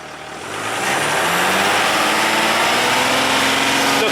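A Jaguar XF with a soot-blocked DPF is revved to about 3,000 rpm, the engine note climbing over the first second from idle and then holding a loud, steady, close drone.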